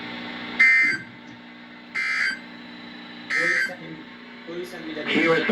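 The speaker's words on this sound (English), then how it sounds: "the National Weather Service has just activated the public warning alarm tone in a test of the" NOAA weather radio required weekly test from the National Weather Service: four short, loud electronic warning bursts about a second apart, with a voice speaking underneath.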